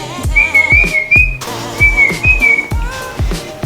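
A person whistles a short melodic tune alone, with rhythmic thumping or clapping beats underneath throughout.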